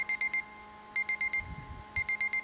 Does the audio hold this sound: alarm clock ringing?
yes